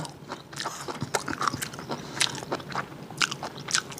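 Close, crisp bites and chewing of stir-fried bracken fern namul come in quick irregular crunches, fairly quiet and with no speech.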